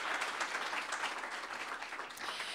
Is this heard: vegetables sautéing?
no